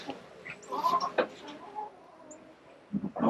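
Backyard chickens cluck near an automatic coop door, a series of short, soft clucks and murmurs spaced irregularly, close by and fairly quiet.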